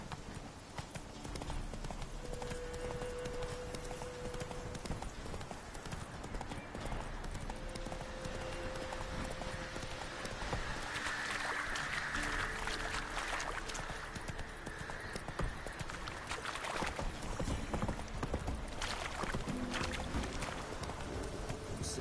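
Hooves of Roach, the horse in The Witcher 3, clip-clopping in a steady galloping rhythm throughout, mixed with game ambience and faint background music.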